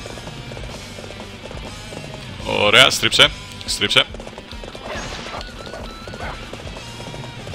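Horse gallop in the video game Dynasty Warriors 7: a short burst of hoofbeats with clattering impacts, loud and close, among busy game noise, with someone talking over it.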